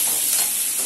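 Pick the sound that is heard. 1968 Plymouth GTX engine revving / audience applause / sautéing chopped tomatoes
sautéing chopped tomatoes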